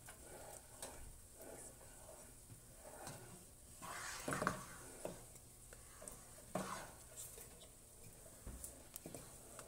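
A spoon stirs salt and fresh cracked pepper into a pot, making soft, quiet scraping and swirling strokes in an irregular rhythm, with faint bubbling beneath.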